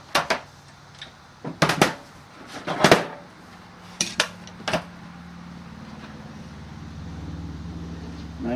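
Metal gears and parts from an Xtrac 6-speed gearbox are set down into a pan, giving several sharp clinks and clunks in bursts, then a low steady hum fills the quieter stretch that follows.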